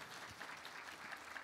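Audience applause for a coordinator at a solar energy conference panel, a brief, even patter of many hands clapping, heard faintly and alone.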